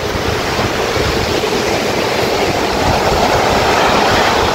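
Strong-current surf at Pagudpud beach, Ilocos Norte, Philippines, heard as a dense, unbroken, loud roar of crashing water close by, with no voices.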